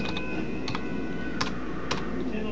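Keys clatter on a computer keyboard while someone writes code. Close, sharp clicks come in small irregular clusters over a steady background hum, with no talking.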